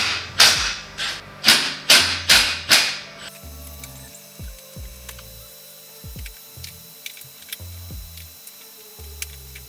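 Plastic pop clips being undone on a car cowl: several sharp, evenly spaced snapping thuds in quick succession, followed by quieter scattered clicks and knocks of handling parts.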